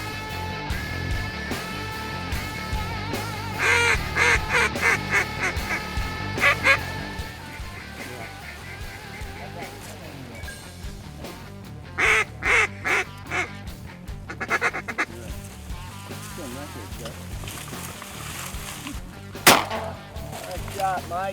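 Ducks and geese calling during a Missouri duck hunt, scattered honks and quacks coming in bursts over several seconds, fairly faint and a little distant over low background noise.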